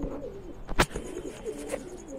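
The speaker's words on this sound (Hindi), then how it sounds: "कितना प्यारा कबूतर है" A soft, low coo from a white pigeon rolls along under faint background noise, with one sharp click or knock partway through.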